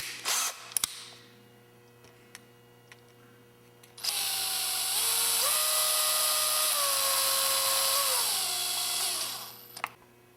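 Milling machine cutting a metal medallion blank held on a block in an indexing table, a loud steady whine lasting about five seconds with a shifting pitch, starting and stopping abruptly.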